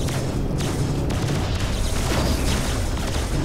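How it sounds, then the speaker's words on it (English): A torpedo is fired at the Battleship Missouri in the space game Freelancer, giving a loud, continuous booming rumble with repeated muffled blasts and broad noise throughout, no voices. "Let's go fire a fucking torpedo at it"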